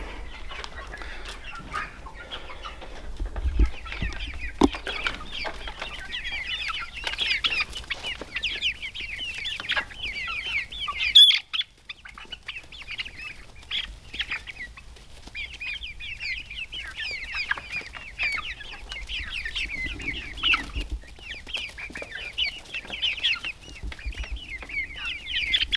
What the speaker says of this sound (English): This rooster right here.